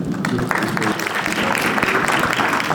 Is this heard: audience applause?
yes